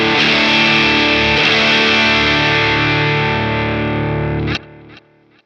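An electric guitar runs through a Danelectro Cool Cat Drive V1 overdrive pedal with all controls at noon, producing a loud, sustained distorted chord that rings for several seconds before being abruptly cut off.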